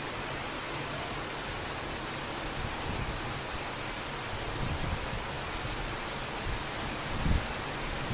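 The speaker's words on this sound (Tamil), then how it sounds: "இப்போ கொல்கத்தாவில் எப்படி ஹெவியாக மழை பெஞ்சிட்டு இருக்குன்னு பாருங்கள்." Heavy rain pouring down in Howrah, Kolkata, on a morning in West Bengal: a steady, dense hiss of downpour that holds at an even level throughout, with a faint thump near the end.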